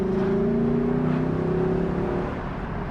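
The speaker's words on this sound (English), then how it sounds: "And that symphony of V8 comes to life." Lexus LC 500 Convertible with its naturally aspirated V8 revs hard under full throttle, a steady loud engine roar with rising harmonic tones that holds for about three seconds, close and alone.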